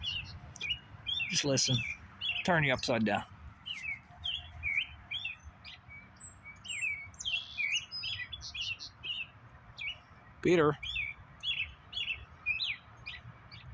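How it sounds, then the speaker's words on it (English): Small birds chirp and tweet in short bursts throughout outdoors, with brief spoken remarks in between. "Did you hear the bird?"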